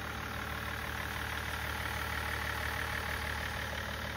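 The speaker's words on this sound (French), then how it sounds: "Il y a un moteur qui tourne absolument correctement." A BMW E39 530d diesel engine with 312,000 km idles quietly and evenly, a smooth continuous hum with no changes in pace.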